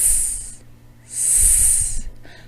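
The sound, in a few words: voice imitating interrupted hissing s sound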